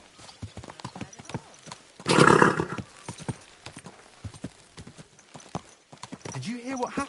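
Horse hooves clip-clopping in a video game, a rhythmic series of hoof strikes near the listener, with a burst of louder movement and a whinny, under spoken dialogue.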